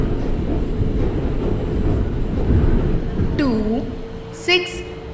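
Steady rumbling train noise fills an Indian railway platform in the video game Indian Train Simulator while a loud announcement voice talks over it, with a rising and falling tonal chime near the end.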